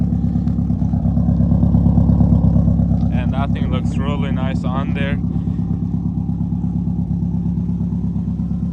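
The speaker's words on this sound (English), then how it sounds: "so the car is idling outside. We went ahead and installed the HKS muffler" A Mitsubishi Evo fitted with an HKS muffler idles steadily nearby, a deep, even pulsing exhaust rumble that continues throughout while someone talks briefly over it.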